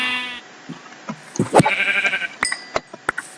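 Minecraft sheep give short, sharp bleats mixed with bursts of game hits and clicks, loud and close, with several quick cries in a row.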